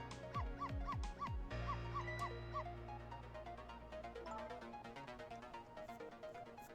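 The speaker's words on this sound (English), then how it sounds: "Missile, if you bark like that, you'll make the lady next door start howling" Missile the dog barks in the Ghost Trick: Phantom Detective video game, a run of short stylized yips and whimpers over busy, steady game music.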